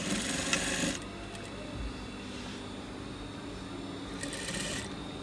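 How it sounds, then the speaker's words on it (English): Sewing machine stitching cargo shorts, running steadily at close range with louder bursts of stitching at the start and near the end. "Neatly stitch on top."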